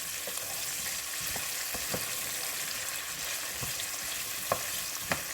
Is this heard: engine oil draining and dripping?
no